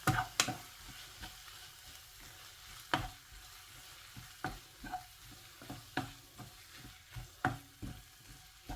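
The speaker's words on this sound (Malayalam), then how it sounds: "എന്നിട്ട് നന്നായിട്ട് ഇളക്കി കൊടുക്കുക." A spoon scrapes and knocks through tomato curry with chilli and turmeric powder in a pan, a dozen or so irregular clacks over a soft steady sizzle, close and fairly quiet, with no talking.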